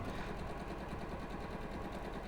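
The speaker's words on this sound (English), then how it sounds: "Strange going back to this sewing machine." Sewing machine stitching quilt pieces with small stitches at a quarter-inch setting, running in a fast, even mechanical patter, close and continuous throughout.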